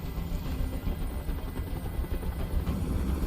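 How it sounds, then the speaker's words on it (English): A steady, droning helicopter rotor thrum in a video game fills the clip, constant and fairly close, with low rumble and no talking. "I can't stand that noise anymore. Tell that helicopter to get out of here."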